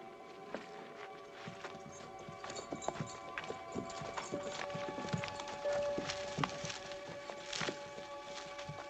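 Horses' hooves clip-clop steadily over rough, rocky ground as they pull a wagon, faint irregular clops under a constant background rumble.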